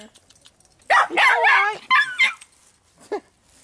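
A Chiweenie dog gives a few short yips and whimpers close by, bursts of barking at around a second and two seconds followed by a brief whine, outdoors on a cold Halloween night.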